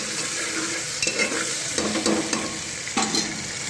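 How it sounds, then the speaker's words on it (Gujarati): A vegetable dish with tomatoes sizzles in a hot pan while being stirred, with scraping spoon strokes and clinks against the pot over a steady frying hiss. "તો આપણે નાખીશું ટમેટા ટમેટા નાખીને આપણે હલાવી દઈશું"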